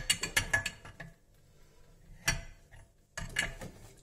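A 30 mm wrench unscrews a plumbing reducer fitting while a water heater safety valve group is replaced. Quick ratcheting metal clicks come in bursts, broken by brief quiet pauses and a single sharp clank.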